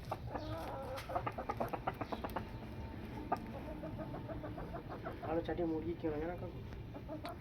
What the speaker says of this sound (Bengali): ভেতরে সব মুরগি